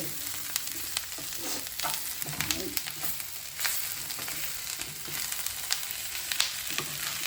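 Beef frying in a pan with garlic and ginger, a soft continuous sizzle with occasional scraping stirs and clinks, fairly quiet and close, no talking.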